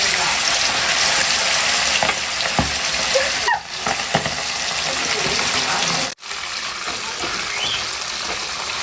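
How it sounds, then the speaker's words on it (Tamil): Chicken leg pieces, rubbed with masala, sizzle and crackle steadily in hot oil for pakoda, a dense close frying hiss with a brief dip partway through. "அப்படியே எண்ணெயில போட்டுடலாம் வாங்க."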